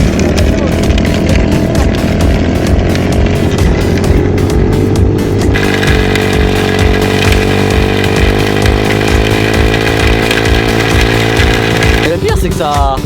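A loud motorcycle ridden without a tire, its bare wheel rim on asphalt, revs continuously with a harsh grinding, buzzing rasp, the pitch shifting as it rides; voices are heard briefly.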